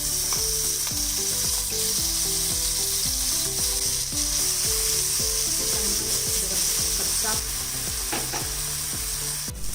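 Ground masala paste sizzles in hot oil with asafoetida in a pan, a continuous loud frying hiss with repeated ratcheting clicks of stirring throughout.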